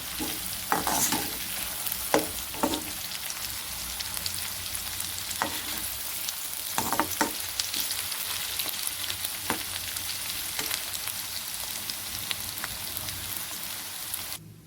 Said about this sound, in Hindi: अब हम लहसुन को ब्राउन करेंगे इसमें।